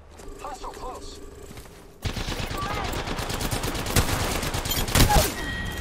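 Rapid bursts of enemy gunfire in a shooter video game, a loud continuous fusillade that kicks in suddenly after a quieter stretch with faint game sounds.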